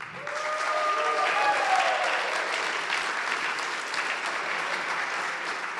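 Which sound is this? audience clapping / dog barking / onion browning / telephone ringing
audience clapping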